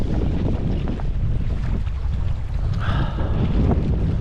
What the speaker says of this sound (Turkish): Bugün rüzgar var.